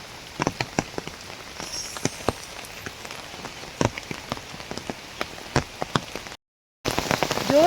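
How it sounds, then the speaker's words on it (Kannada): Rain is falling, heard as sharp, irregular drops pattering nearby on a surface over a soft wet hiss, with a short silent break near the end. "ಜೋರು ಬರ್ತಾ ಉಂಟು ಮಳೆ."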